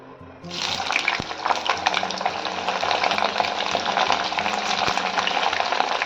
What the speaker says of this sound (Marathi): आता इथे आपण पनीर तळून घेणार आहोत.